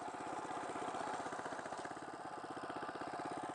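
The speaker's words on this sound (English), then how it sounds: "by engaging the second bail bar, this makes the mower move, so that then I'm mowing" An Allett Classic cylinder lawn mower runs and mows nearby, its engine giving a steady, close, rapidly pulsing drone with a rattling edge throughout, with no talking.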